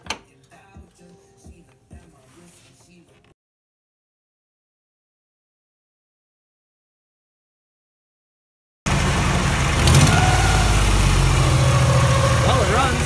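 A Nissan Z31's engine, freshly reassembled after a teardown, runs with a steady, loud, rough idle up close, following clattering workshop sounds and a stretch of silence.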